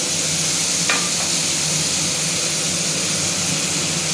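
Spice paste hitting a pan of softened tomatoes for a gathikochu (taro stem) dish, giving a steady close sizzle and fry with stirring, alone and without talk.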